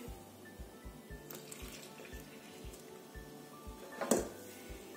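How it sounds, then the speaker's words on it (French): Warm milk is poured into a well in flour for burger bun dough, a faint steady liquid trickle with a soft low rhythmic thump in the background. "Je verse le lait tiède."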